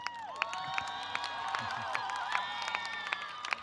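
Audience of new students at a 2024 convocation cheering and whooping, with sharp claps and shouts popping out of a moderate, fairly distant crowd roar for a few seconds.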